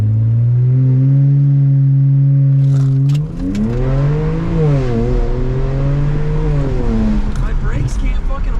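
Tuned BMW 335i on E50 fuel with an upgraded fuel pump launching hard from a standstill on a residential street, loud engine revving up through rising harmonics, with a gear change and continued hard acceleration close by.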